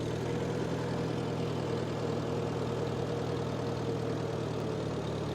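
Farmall tractor engine running in third gear with a little extra throttle, a steady, close, loud low-pitched throb that stays even and unbroken throughout, with no voices.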